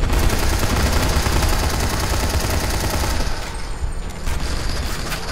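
Sustained automatic gunfire from the zombie survival game Dying Light, a loud, dense stream of rapid shots that keeps hammering for about three seconds before thinning into scattered bursts.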